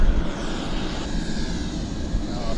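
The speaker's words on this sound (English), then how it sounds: "This is a MAX. It's headed to San Francisco." An Air Canada Boeing 737 MAX jet roars steadily as it departs from Vancouver Airport, a dense, continuous engine rumble heard at a distance with no clear speech.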